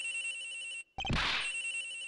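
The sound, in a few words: cell phone ringing inside a suitcase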